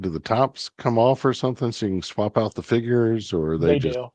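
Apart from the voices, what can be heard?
None of the usual background noises is heard.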